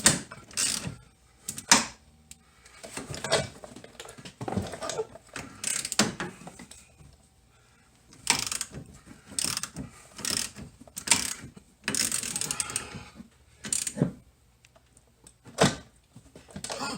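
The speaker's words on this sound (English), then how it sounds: "We gotta get a wrench." Ratchet wrench clicking in repeated bursts while tightening rear control arm bolts on a C4 Corvette, with short pauses between strokes, loud and close, no talking.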